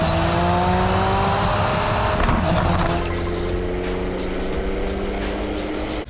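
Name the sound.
race car driving around Dubai Autodrome in video game Project CARS 3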